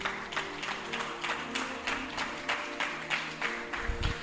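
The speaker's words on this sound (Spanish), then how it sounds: "Dele fuerte ese aplauso a Dios." A church congregation claps in a steady, rhythmic beat, many hands together at moderate distance, sustained throughout with a faint low hum beneath.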